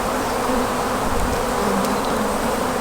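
Honey bees on an opened hive frame carrying the queen, brood and eggs, a dense continuous buzzing hum filling the space, close and steady with no talk.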